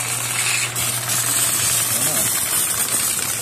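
A carwash power sprayer with a leaking gasket and weak pressure runs as a steady, broad hiss of spraying water over a low motor hum.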